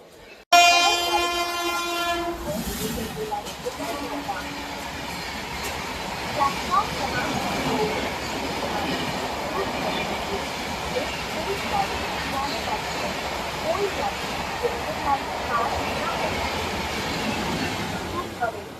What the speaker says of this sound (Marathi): आता ही जयपूरला चालली आहे ट्रेन.